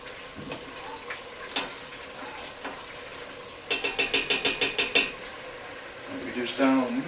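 A pan of seafood concassé with tomatoes and a splash of Marsala reduces on the stove, with scattered clinks and scrapes of cookware, then a quick run of rapid metallic taps, and a faint sizzle underneath.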